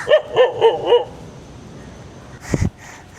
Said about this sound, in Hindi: कुत्ते पीछे पड़ गए